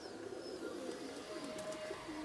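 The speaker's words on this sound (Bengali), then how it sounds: "মাশাআল্লাহ অনেক সুন্দর কবুতর" Rajshahi Giribaz pigeons coo softly and continuously over a low background murmur, sounding close but gentle.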